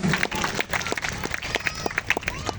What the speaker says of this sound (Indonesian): Mari kita beri tepuk tangan yang meriah buat Tuhan Yesus.